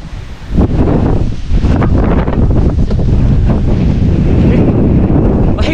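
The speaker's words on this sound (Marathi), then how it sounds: "वारा वारा किती जबरदस्त सुटलाय, एकदम जबरदस्त" Strong wind roars across the microphone at Takmak Tok on Raigad fort, a loud, buffeting rush that holds steady throughout with no voices.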